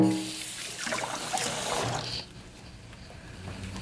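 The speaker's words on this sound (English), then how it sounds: "Let me give it a quick rinse." Kitchen tap water running over a celery stalk as it gets a quick rinse, a soft steady trickle and splash that shifts in tone midway, close and fairly quiet.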